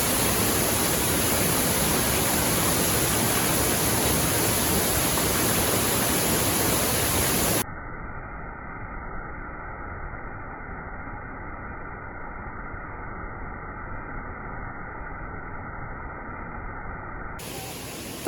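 Sajla waterfall near Manali in Himachal Pradesh, a steady loud broadband rush of falling water for several seconds, then continuing much quieter and muffled with a faint tonal hum over it.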